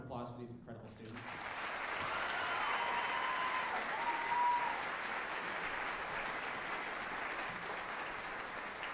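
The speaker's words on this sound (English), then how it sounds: "one more round of applause for these incredible students" An audience applauds honor band students at a regional concert, a sustained wash of clapping that swells after a few spoken words and then fades slowly.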